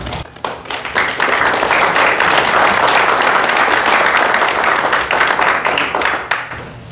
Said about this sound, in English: If you could please reserve your applause until all of the members are present